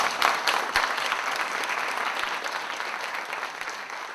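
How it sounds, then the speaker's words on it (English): A friendly crowd applauds Christie at a news event, steady clapping from many hands that swells at the start and holds at an even level throughout. "That applause break was the first of several from the seemingly friendly crowd."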